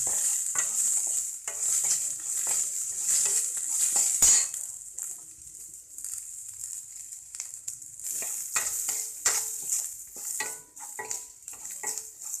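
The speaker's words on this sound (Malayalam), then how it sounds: "ഇനി ഒരു ചെറിയ രീതിയിൽ നമുക്കിത് വഴറ്റിയെടുക്കണം." Curry leaves and onion are sautéed in a pan for curd rice, with a bright continuous sizzle broken by repeated spatula scrapes and stirring clicks, close and without talk.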